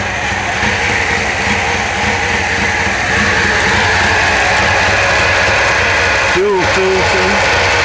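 A Chevrolet Monte Carlo engine running after a cold spring start, with a steady, rough, uneven idle and a brief higher-pitched sound near the end.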